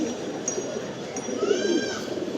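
Pigeons in a loft, including a Chuitha hen: soft, close cooing, a few short throaty coos and a brief higher chirp over a low murmur of birds, with no talking.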